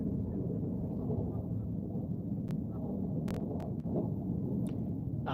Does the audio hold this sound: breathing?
no